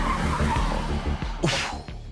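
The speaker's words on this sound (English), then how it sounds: "I'm literally braking so early with these carbon ceramic brakes" A Dallara Stradale with carbon ceramic brakes brakes hard on a racetrack: engine and road roar throughout, then a sharp, brief tire squeal near the end before the noise fades.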